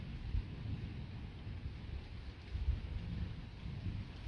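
Low, distant thunder rumbles faintly under a steady wash of background noise, with a couple of slightly stronger swells, from the remnants of a night thunderstorm over the Ardèche.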